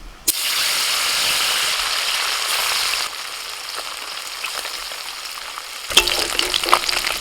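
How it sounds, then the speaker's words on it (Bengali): Puti fish frying in hot oil, a continuous close sizzle that drops to a softer crackle partway through, then picks up with clinks and scraping as the pieces are stirred. "বড়গুলো আগে একটু বেছে বেছে ভেজে নেবো"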